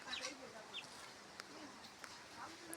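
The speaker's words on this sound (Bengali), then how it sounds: "এই যে কি মুরগি এগুলো দেখি বন্ধুরা দেখুন কি মুরগি" Chickens cluck and chirp faintly in a rural village by the Bangladesh border, a few short scattered calls at a distance over quiet outdoor ambience.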